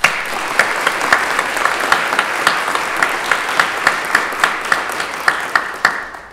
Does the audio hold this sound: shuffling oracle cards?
no